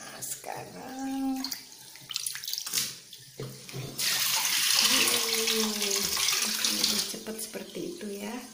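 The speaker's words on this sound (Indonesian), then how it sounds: "nah ini kita masukkan lagi ke air yang bersih" Sugar palm fruit (kolang kaling) being rinsed again in clean water, with a voice speaking over brief clatter before a few seconds of steady splashing and running water.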